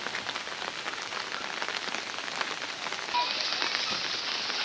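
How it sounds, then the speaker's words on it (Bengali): Light, steady drizzle falls on a village during a wet August morning, a dense continuous patter of fine drops on surfaces that grows slightly louder and brighter partway through, with no voices. "গুঁড়া গুঁড়া বৃষ্টি পড়তেছে সকাল থেকে"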